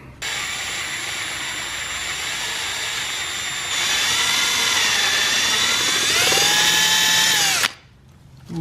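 A power drill whirs continuously at close range, its pitch shifting as it speeds up, then cuts off abruptly near the end.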